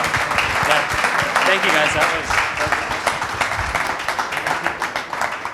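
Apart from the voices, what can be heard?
audience applause for the panel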